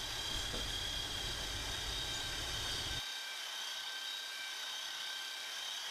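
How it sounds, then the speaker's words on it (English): A belt sander grinds cured resin off a wooden box in a steady, loud whir that cuts out about halfway through and leaves only a faint hum. "I've done the first sand on the resin, got the bulk of it off with my trusty belt sander there"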